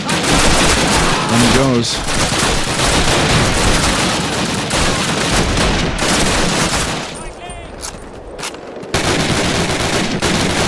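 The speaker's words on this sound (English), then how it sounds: "They're shooting medics too." Call of Duty battlefield gunfire, loud and dense bursts of rapid automatic fire with scattered single shots, sustained through most of the clip with a brief lull, and people talking over it.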